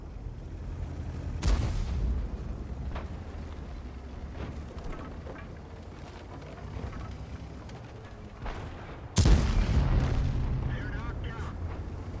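Two heavy booming shots from a tank cannon in World of Tanks, about eight seconds apart, each a sharp loud blast with a rumbling tail over steady engine drone and game ambience.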